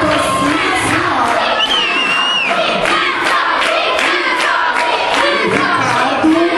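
Party crowd at an eleventh birthday celebration cheering and shouting loudly and continuously, with overlapping whoops and excited children's voices filling the room throughout.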